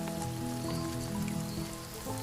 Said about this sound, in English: On the jungle floor, the rain fills up the nut collectors' discarded shells.